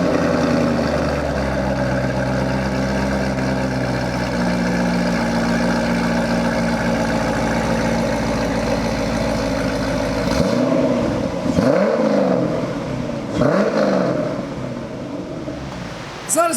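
A car engine with fresh headers, X pipe and exhaust rumbles steadily at idle, then revs up in a few sharp bursts, loud and close by.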